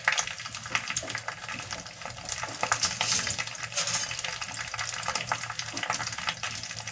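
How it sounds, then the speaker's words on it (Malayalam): Dried chilies being dry-roasted in a pan for a chammanthi chutney, giving a steady crackling, rattling sizzle with scattered sharp clicks as the pods are stirred, close and continuous. "മുളകൊക്കെ നമ്മൾ ഒന്ന് വറുക്കുന്നു. കരിയാതെ വറുക്കണം."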